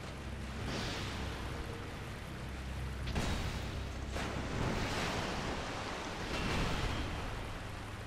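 Noisy water in the Dark Souls 2 video game rushes as a constant broadband wash with gentle surging swells. It is steady and heard alone, with no voices.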